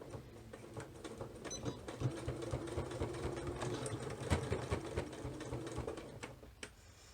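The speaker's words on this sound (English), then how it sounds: "I'm going to forward and back stitch this a few times because this seam's going to take a fair bit of beating" A sewing machine stitching a seam on a double-breasted shirtdress, running forward and back in a steady rapid mechanical chatter that swells and eases, close and clear.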